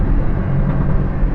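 A C8 Corvette engine roaring loudly from close by, a dense sustained low rumble with no breaks.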